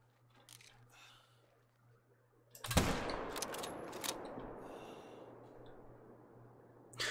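A single loud rifle shot rings out while hunting in the video game The Hunter, followed by a long decaying echo; a faint hum sits underneath and a couple of softer sounds come before it.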